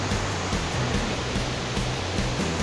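Sam Sai waterfall in Khun Han, Sisaket, Thailand, a loud, steady rush of falling water that roars continuously and evenly throughout, with no voices.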